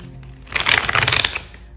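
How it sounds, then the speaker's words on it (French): A deck of mythic tarot cards being shuffled close up, a short riffling flutter about a second long, quiet at the start and then dense and crisp, with no talking. "On va prendre, avec le tarot mythique, des cartes supplémentaires pour avoir des précisions sur ce tirage."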